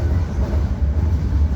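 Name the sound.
Ranggajati train departing Surabaya Gubeng station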